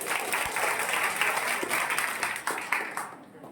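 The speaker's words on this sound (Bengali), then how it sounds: "সবাই একটি করতালি, সর্বশেষ করতালি।" Audience applause at a debate competition award ceremony, a steady dense clapping from a crowd that holds strong then thins and fades out at the end.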